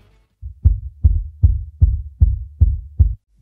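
Isolated low-end kick drum track from a stoner rock mix, gated for a tight sound: seven deep, thumping hits at a steady moderate tempo, each a short boomy punch with a quick decay, loud and alone with no other instruments.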